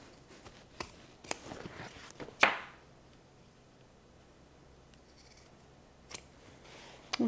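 Scissors trimming fabric while a crossbody bag is sewn, a few quiet close snips followed by one sharper cut, then near silence with faint clicks near the end.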